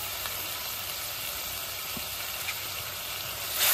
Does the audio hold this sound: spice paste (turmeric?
yes